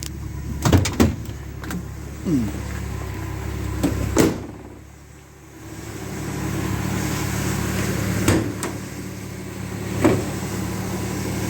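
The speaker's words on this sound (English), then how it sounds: "can't open the hood of my own car" Someone works at the stiff hood of a 1976 Dodge D100 pickup truck: scattered metallic clunks, knocks and creaks, with a louder thunk near the start, a quiet pause in the middle and more bangs toward the end.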